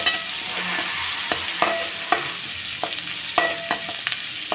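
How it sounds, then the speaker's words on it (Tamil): Chopped onions sauté in a pan for an elephant foot yam tamarind curry, giving a continuous close sizzle broken by sharp stirring scrapes and taps, with no talking. "வெங்காயம் நல்லா வதங்கட்டும்."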